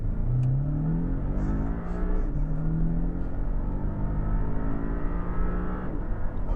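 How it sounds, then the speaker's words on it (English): A Porsche 718 Cayman base model sports car accelerating hard, its engine note climbing steadily and loud throughout from inside the cabin, with rising harmonic sweeps as it pulls through the revs. "You give that gas, put your foot on the throttle, it just goes."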